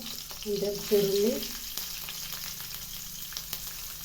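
Oil sizzles softly as garlic and shallots fry in a pan, while a voice speaks briefly over the crackle near the start.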